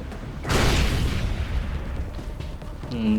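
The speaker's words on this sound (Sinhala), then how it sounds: "දෙන්නම ඉවරයි බෝම්බයක් දැම්ම සුපිරි" A bomb blast in the video game Far Cry 3: one heavy boom that bursts out then rumbles and fades, with faint game sounds behind.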